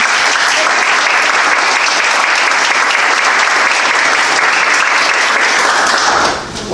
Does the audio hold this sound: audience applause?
yes